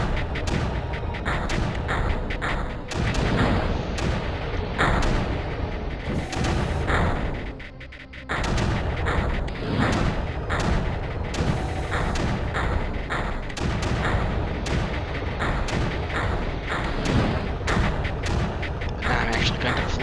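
Blasters in the video game Creeper World fire in a dense, continuous barrage of booming thuds and mechanical shots, loud and steady throughout, with one brief dip before the rapid firing resumes.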